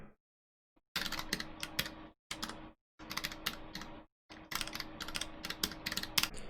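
Close keystrokes on a computer keyboard while writing C code for a game engine come in quick bursts of rapid clicking, separated by short silent pauses, with no talking.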